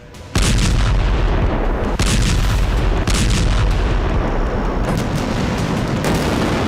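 A massive blast, likely from the Russia-Ukraine war, bursts in abruptly after a brief quiet and rumbles on with heavy booming roars and several renewed surges, loud and sustained throughout.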